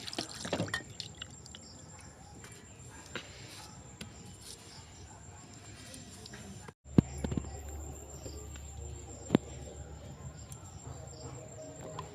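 Water is added to a paneer and potato curry cooking on a clay stove, with soft trickling and dripping over a low background murmur and a couple of sharp clinks.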